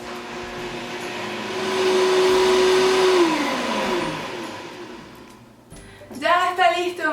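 Blender on its smoothie setting whirring through bulletproof coffee with seeds, a loud steady motor roar that climbs in pitch, then winds down and stops.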